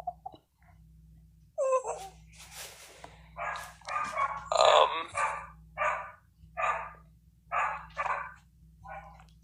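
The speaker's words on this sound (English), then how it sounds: "They're not fighting, they're just barking." Dogs barking in a series of sharp, close barks and yips, irregularly spaced over faint looping game music, with a few whimpers between.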